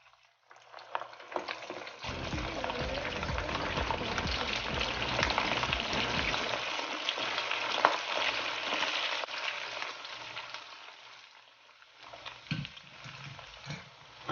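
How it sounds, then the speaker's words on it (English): Pork pieces frying in oil over high heat, a dense bubbling sizzle with stirring and clattering that builds, holds, then eases toward the end. "so on high heat, right? I'm just gonna go ahead and fry again."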